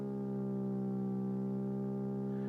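A simulated car engine idles at 1000 rpm in Engine Sim, giving a steady, loud, buzzy droning tone with strong harmonics that holds unchanged throughout.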